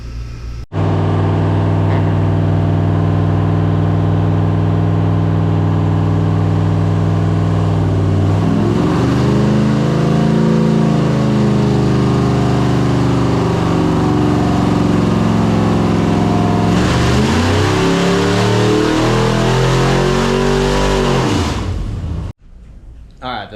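A new engine runs on a dyno, idling steadily before revving up and down through rising and falling pitch sweeps, loud and close, then cutting off near the end.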